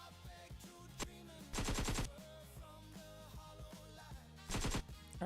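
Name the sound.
AK rifle gunfire sound effect in animation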